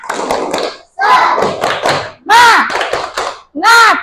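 A school class in a science lesson on magnets doing a rhythmic group spirit clap, with loud bursts of claps and chanting children's voices in four energetic phrases.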